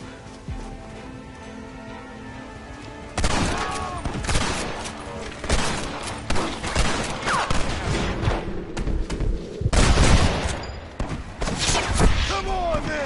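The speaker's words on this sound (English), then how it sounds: "You man the Gatling gun" Rapid bursts of Gatling gun fire in Red Dead Redemption, loud and sustained in repeated volleys after a quieter opening, with shouted voices mixed in.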